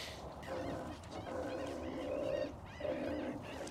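A seagull calls beside a meerkat enclosure at a zoo, giving a few moderate honking cries in succession over soft outdoor background noise.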